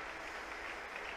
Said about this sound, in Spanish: Aplausos a Dios, Padre, Hijo, Espíritu Santo.